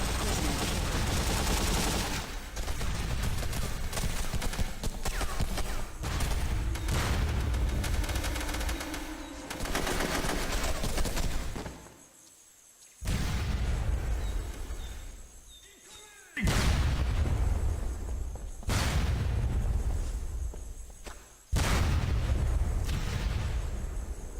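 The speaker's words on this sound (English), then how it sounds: "Grenade!" Grenade blasts and rapid gunfire from the SOCOM II tactical shooter video game, loud bursts of shots and booms across the whole span with brief quiet gaps between volleys.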